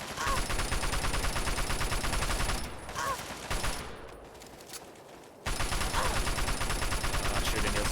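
Bursts of gunfire from Fallout 3 DLC combat, rapid overlapping shots that dip into a quieter stretch midway before loud firing resumes.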